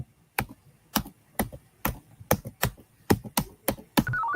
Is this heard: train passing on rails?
no